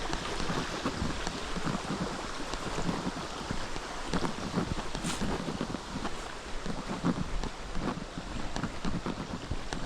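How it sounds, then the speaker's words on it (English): Sun shower rain falls outdoors in Craik Forest, a dense steady hiss with constant patter and gusty wind buffeting close to the microphone, no talk. "It's just a sun shower at the moment"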